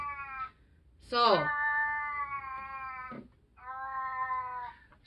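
A female cat in heat gives three long, wavering mating yowls, each several seconds long and fairly loud and close, with a single brief spoken word nearby.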